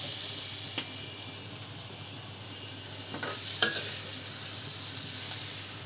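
Fried bati greens being stirred and lifted from a pan, a faint low sizzle with a few soft scrapes and one sharper clink, quiet and close with no talking.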